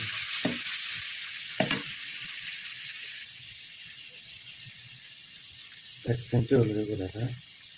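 Food stirred and frying in a pan for khepcha, a steady close sizzle with scraping spatula strokes, talk coming in near the end.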